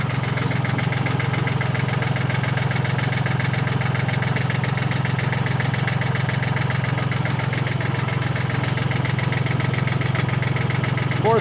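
A 1980 Kubota tractor engine idles steadily after warming up, a continuous low mechanical drone with a rhythmic knocking texture, close and loud throughout with no pauses.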